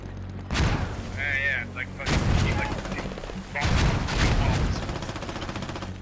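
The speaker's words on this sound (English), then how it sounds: "our thing's getting fucking artillery right now" Artillery shells and gunfire boom and crack in a tactical military shooter (Squad) city fight, arriving in loud repeated bursts with a brief high whine between them, while players talk over the barrage.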